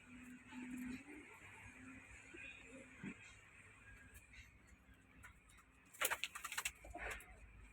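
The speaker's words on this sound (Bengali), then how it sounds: "আমাদের সব পায়রা এখন খাওয়ার পর সব ডাকাডাকি করছে" Pigeons cooing after feeding in a loft with nesting boxes, soft repeated low coos at close range, with a brief louder burst of fluttering or calls near the end and a voice speaking over them.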